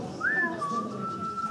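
A person whistles one short rising note that glides into a held tone, soft and close over a faint background hiss.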